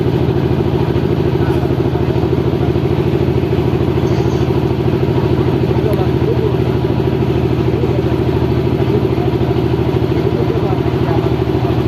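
A motorcycle engine runs steadily during a river crossing, a close, continuous low rumbling drone with faint clatter, and voices talking over it.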